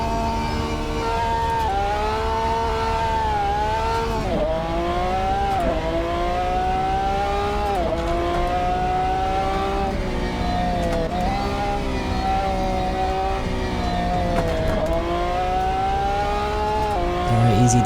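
A SuperGT race car mod in Assetto Corsa sits on the grid and pulls away, its engine droning loudly and steadily with repeated rising revs and shifts throughout, a continuous close-up roar.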